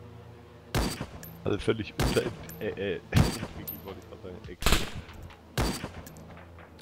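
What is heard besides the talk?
gunshots from a video game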